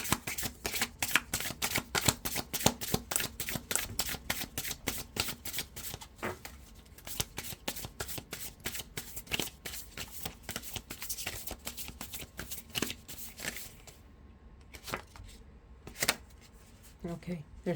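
Tarot cards being shuffled by hand for a love reading, a fast run of crisp riffling flicks that slows to a few sparse snaps near the end, close and fairly loud.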